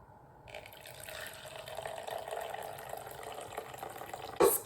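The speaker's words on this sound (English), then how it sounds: "Now we need to drain the water." Water poured off freshly cooked ramen noodles into a sink, a steady moderate splashing stream that swells gradually and ends with a sharp clatter.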